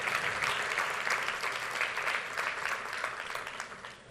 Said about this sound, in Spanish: Un aplauso a Dios que es fiel.